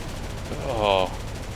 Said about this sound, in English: More gunfire's coming in.